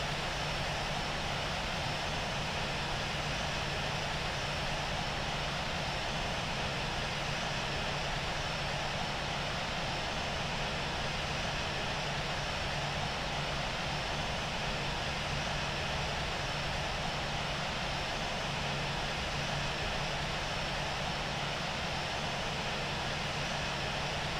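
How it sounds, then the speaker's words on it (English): An airliner taxiing to the runway in the Infinite Flight game produces a constant, even engine drone with a steady hum and broad whooshing noise, unchanging throughout without any talk. "Taxiing to runway 16 right, will hold short of 7225"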